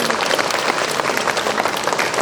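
An audience claps for young people at a Ukrainian Youth Day ceremony, a dense, loud round of applause sustained evenly across the moment with a faint crowd murmur beneath.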